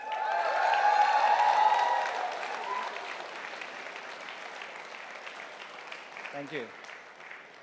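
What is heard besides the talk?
applause for the ColorOS team at a launch event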